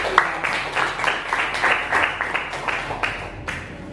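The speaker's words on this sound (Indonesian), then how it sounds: "kita kasih aplaus" A classroom of students claps together, a quick run of sharp, fairly close handclaps lasting a few seconds at moderate loudness, with no talk.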